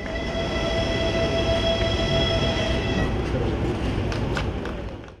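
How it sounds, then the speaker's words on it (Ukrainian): A freight train of ore wagons pulls away from Beskyd station, its broad steady rumble and rail tones sustained throughout with a couple of sharp metallic squeals near the end. "Перші вагони везуть руду до Словаччини"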